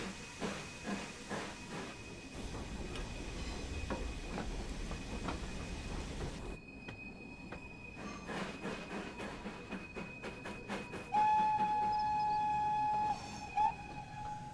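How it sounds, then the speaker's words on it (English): Whistle of a Fowler 4F steam locomotive shunting in a yard in Train Sim World 3, with steam hissing and chuffing throughout, then a long, clear whistle blast near the end that echoes and fades, followed by a short second toot. "I truly love the echo of the whistle"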